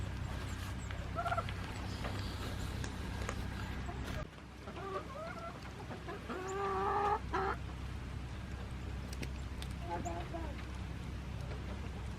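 Chickens cluck and call on a homestead, a steady clucking flock with a few louder bursts near the middle, set against a busy outdoor background.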